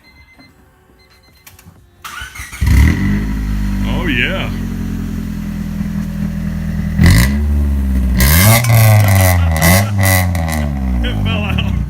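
A 2000 Honda Civic EX VTEC engine with a slightly modified silencer cranks and fires up, then idles loudly and steadily close by, with a couple of rev blips partway through and a short spoken remark over it.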